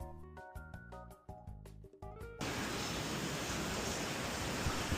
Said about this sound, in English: Oh yeah, look at all that rain,